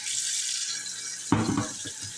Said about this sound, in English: I'm going to open up 2 cans of these black beans, and I'm going to drain the juice